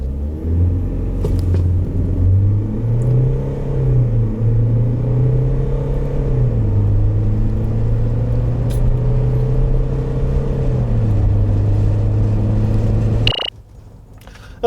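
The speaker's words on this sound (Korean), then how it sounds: "G4 렉스턴의 가속 성능에 대해서도 한번 알아볼까요?" A 2017 SsangYong G4 Rexton SUV in rear-wheel-drive mode pulls hard under full acceleration. A deep, steady engine drone climbs through several gear shifts and then cuts off abruptly near the end, with no talk.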